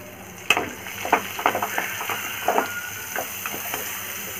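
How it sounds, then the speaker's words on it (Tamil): Chopped onions frying in hot oil for prawn Maggi noodles, a close crackling sizzle broken by repeated scraping stirs. "இந்த எண்ணெயிலே நம்ம இப்போ வந்து மேகி தாளிச்சிரலாம் வெங்காயம் நறுக்கி வச்சிருக்கோம்ல அந்த வெங்காயம் போட்டுக்கலாம்"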